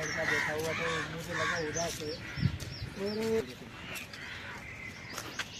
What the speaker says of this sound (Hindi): देखो कौवे बोल रहे हैं